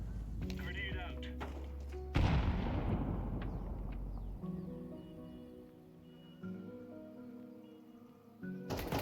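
A single heavy grenade blast in a video game shooter booms up close and decays into a long rumbling tail, amid steady tonal game sounds and a later thump.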